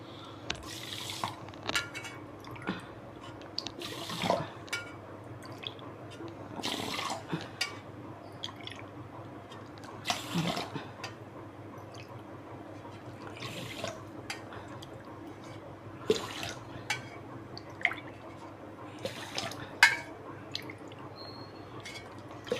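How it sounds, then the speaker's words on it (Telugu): Water is poured over millet for porridge, eight glasses of water for two of grain, heard as intermittent splashes and trickles in separate bursts, quiet and close. "ఇవి 2 గ్లాసులు వేసాను కాబట్టి సాములు 8 గ్లాసులు వాటర్ వేసుకున్నాను"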